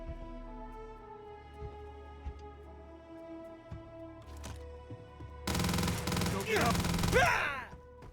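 Rapid automatic gunfire from the video game Starfield bursts loudly after a quiet stretch of faint ambience and lasts a few seconds before tapering off, with some vocal sounds mixed in.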